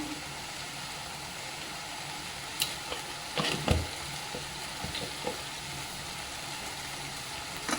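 A besan and curd mixture with sugar cooks in a pan over low heat. It gives a constant low sizzle, and a spoon stirs through it with a few scraping strokes in the middle.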